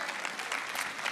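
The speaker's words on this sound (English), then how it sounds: "We applauded for my mom" A church congregation claps during a pastor's sermon, a brief burst of dense, even applause from many hands filling the room at moderate loudness.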